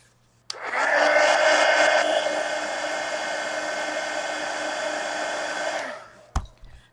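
A dryer blasts on abruptly, a loud steady whirring rush of air drying a mixed media collage art card, holding for about five seconds before switching off with a click.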